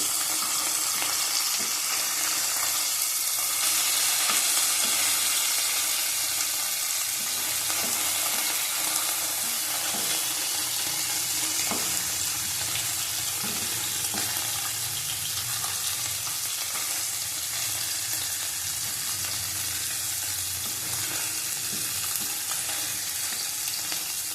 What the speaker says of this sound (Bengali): আমরা দেখো আমুদি মাছ ভেজে নিচ্ছি আমি।